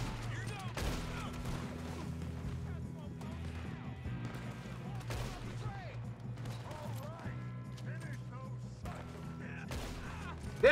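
Gunfire in Red Dead Redemption 2, several sharp shots spaced out over a steady game ambience, fairly close, with faint voices in the background.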